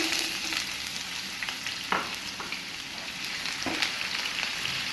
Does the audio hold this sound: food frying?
yes